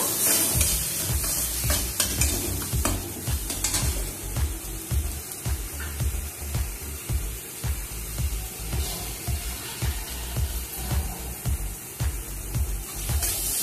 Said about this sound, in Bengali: এক চামচ হলুদ দিলাম, একটু মশলাটাকে একটু ভেজে নেব